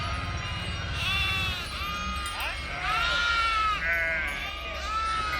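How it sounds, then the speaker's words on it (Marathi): A flock of sheep arriving at an evening camp in Jadhavwadi, Pune district, bleats repeatedly in wavering overlapping calls, close and loud over a steady background rumble, with voices talking underneath. "हे बघा मेंढ्या आल्या अजून"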